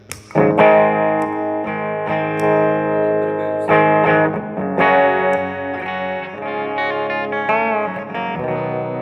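An electric guitar with a Bare Knuckle True Grit humbucker, played through a blues overdrive pedal, plays strummed chords and sustained notes with a gritty, warm distortion, loud and close, with no talking.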